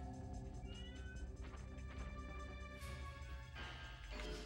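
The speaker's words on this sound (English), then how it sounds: "That's my cat, by the way." A house cat meows close by, long drawn-out tonal cries rising and falling over a steady loud background of video game music and sound effects.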